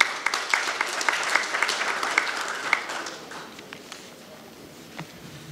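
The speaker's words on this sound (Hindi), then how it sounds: "इस दीप सदी के उन पत्रकारों के लिए भी एक बार जोरदार तालियां आपकी तरफ से होनी चाहिए" Audience applause at a journalism award ceremony, a dense burst of clapping that is loud at first and then gradually thins and fades out, with no talk over it.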